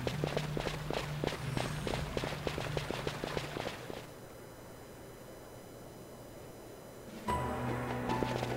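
Video game footsteps as a soft, quick, even patter of feet over a low ambient hum; the steps stop for a few seconds, then start again.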